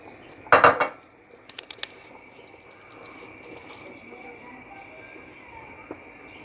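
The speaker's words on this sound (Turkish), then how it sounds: "Şöyle yavaş bir şekilde içerisine boşaltıp hızlıca karıştıralım." A utensil clinks and clatters sharply against a soup pot while a mixture is poured in and stirred quickly for tripe soup, then a few lighter taps follow over a quiet background with faint insect chirping.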